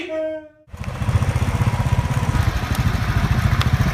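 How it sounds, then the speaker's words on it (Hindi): A well-maintained motorcycle engine running close by, with a loud, steady rhythmic putter that continues throughout after a brief musical or tonal sound at the start, with no speech over it. "क्या बाइक मेंटेन की है यार, 10 साल तो और चलेगी आराम से"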